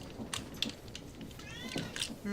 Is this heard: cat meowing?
yes